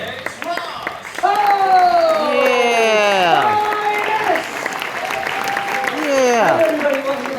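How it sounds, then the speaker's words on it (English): Audience at the Universal Studios Horror Make-Up Show applauding the host, with a steady wash of clapping under loud whoops and cheering voices from the crowd throughout. "how about a nice round of applause for the host of today's show, Alex Ross"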